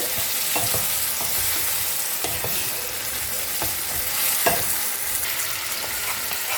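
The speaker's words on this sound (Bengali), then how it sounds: "এবার আমি ভালো করে কষবো যতক্ষণ না তেল ছাড়ছে।" Spice paste for a jackfruit and prawn curry stir-fries in hot oil, a dense continuous sizzle broken by regular scraping strokes of a spatula against the pan, fairly close and loud, no talk.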